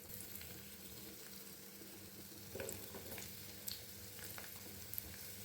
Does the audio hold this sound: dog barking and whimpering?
no